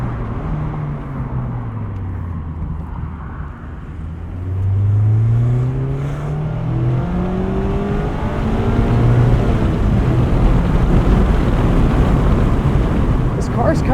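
A 2023 Mazda MX-5 Miata Grand Touring accelerating, engine note rising through gears with a shift dip near the middle, heard steadily from inside the cabin with road noise underneath.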